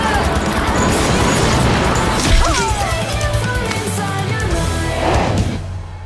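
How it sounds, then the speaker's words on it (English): Glass shatters during a fight scene in the animated show RWBY, a loud crash with scattering fragments layered over music and action effects. "Oh, glass is broken."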